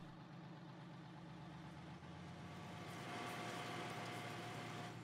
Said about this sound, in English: We can sit still with our non-brake tractor here.